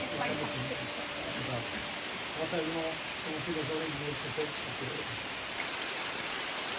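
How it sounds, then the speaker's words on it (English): Rain falling in the Malaysian rainforest at Taman Negara, a steady dense hiss filling the scene, with faint voices murmuring underneath. "And it's raining."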